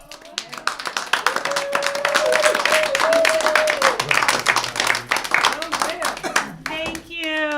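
An audience claps and cheers to welcome a comedian at a Marin comedy show, applause swelling to a dense burst then tapering, with an announcer's voice over the start and someone speaking at the end.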